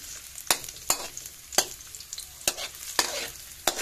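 Garlic and onion sauté in a pan for kilawing labanos, a spoon scraping through them in sharp strokes every half second or so over a steady close sizzle, with no voices.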